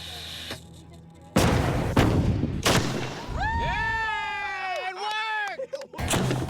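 Duct tape cannon fires an 18.5-pound cannonball with a loud, sharp blast and a second boom, followed by a rising and falling whistling tone as the ball flies off, then another burst of noise.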